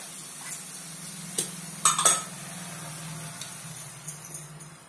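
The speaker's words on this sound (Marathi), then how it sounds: "आपल्याला ही भाजी थोडीशी हलवून घ्यायची आहे." Amaranth greens (tandulja bhaji) are stirred in a pan with a spatula, producing scattered scrapes and a few sharp metallic clinks over a low, steady background hum.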